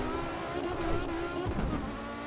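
An Audi S1 E2 Quattro rally car in Assetto Corsa drives on the Highlands Short track, its engine roaring continuously and loudly at high revs, with gear changes and tire noise.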